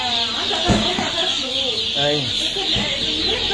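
Farm chickens clucking at a poultry and duck seller's, with short overlapping calls close by and people talking in Egyptian Arabic throughout.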